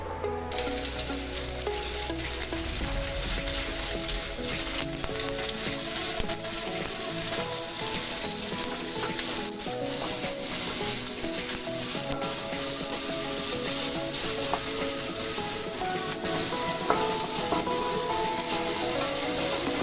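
Onion hits hot coconut oil in a heated kadai for a jackfruit seed curry, a loud steady sizzle starting abruptly and holding with light stirring throughout, no voices.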